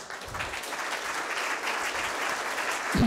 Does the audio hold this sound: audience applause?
yes